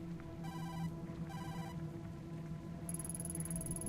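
A phone rings from inside a paper bag in the video game Tokyo Dark, giving two short bursts of an electronic ringtone followed by a higher, continuous tone over a steady low hum.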